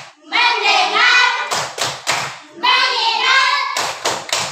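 Pupils in a classroom doing a rhythmic clap-and-chant ice-breaker game: sung or chanted words, then a quick cluster of three or four crisp group claps, with the cycle heard twice, close and loud.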